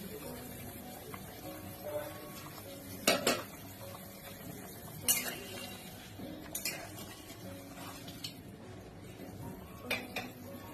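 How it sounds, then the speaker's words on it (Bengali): A metal lid lifted off a cooking pot of rui fish curry, giving a few sharp clanks and clinks of metal cookware against a low kitchen background, with quieter utensil taps spread between them. "10 মিনিট হয়ে গেছে, ঢাকাটা খুলছি।"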